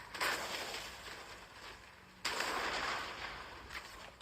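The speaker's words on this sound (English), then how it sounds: "Is that a sideways minigun?" Minigun fire in the Fortnite video game, heard as two rapid bursts of gunfire, the second starting abruptly partway through, fairly quiet and sustained with a rattling, dense texture.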